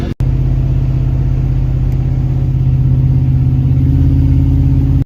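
A Suzuki GSX-R 600 motorcycle engine with dirty carburetors runs close and loud, a steady low droning rumble that holds for about five seconds before cutting off abruptly.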